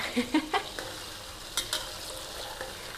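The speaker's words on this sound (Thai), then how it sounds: "เอา ปลาค่ะใส่ลงไป ค่อย ๆ ทอดนะคะ" Fish frying gently in oil over low heat, a soft, low sizzle close by. A few quick knocks and clinks come at the start and again midway, with no voices.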